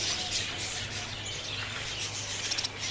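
Budgerigars at a pet bird shop chirping and chattering in a continuous, dense high-pitched twitter, with some steady background hum.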